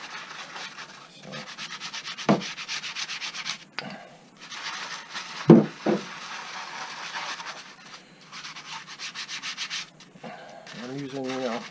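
A coarse, short-bristle brush scrubs a motorcycle fuel tank during a YZ250F build, making steady rhythmic rasping strokes with a few louder knocks and brief pauses. The scrubbing is close up and no one speaks.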